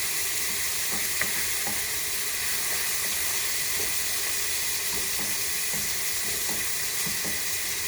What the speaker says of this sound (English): we're gonna leave it sizzling until it turns like brown